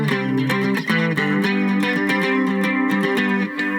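A cigar box guitar strummed with a heavy pick, giving dense, ringing chords with an effected, slightly distorted tone, played continuously and fairly loud, no voice.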